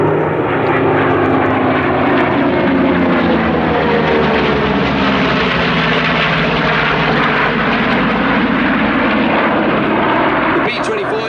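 B-25 Mitchell twin-engine bomber flying past at an airshow, a loud, steady propeller-engine drone that swells and holds throughout, with faint crowd or commentary underneath.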